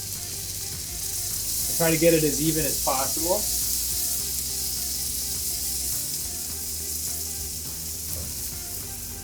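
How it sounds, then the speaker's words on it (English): Egg batter for a purple potato frittata sizzles in a hot pan, a steady soft hiss running throughout beneath a brief spoken remark. "I can hear it sizzling. I know it's getting hot in the pan."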